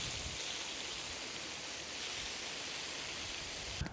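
Water sprays steadily onto a newly planted garden, a continuous soft hiss like light rain, even in level throughout and close by.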